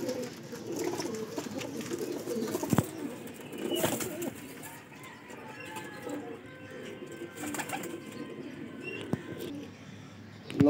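Soft coos from young Parwazi pigeons in Lahore repeat at a relaxed pace over a low background hum, with occasional faint chirps and a few brief knocks.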